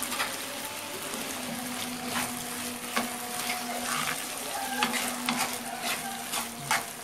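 Carrots, peas and potatoes sauté in a pan with their own water, giving a steady close sizzle broken by the scrape and clatter of stirring, with no talking.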